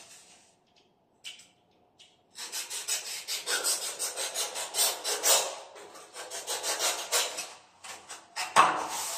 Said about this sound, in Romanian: Mai trebuie foarte puțin tăiat.